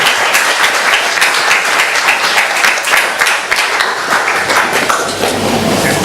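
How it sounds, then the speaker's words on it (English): An audience applauds two speakers, Christine Loh Kung-Wai and Professor Richard Cullen, at the close of a lecture event. Dense, steady clapping from a crowd carries on loud and unbroken for the whole stretch. "Please join me in applauding them and thanking them."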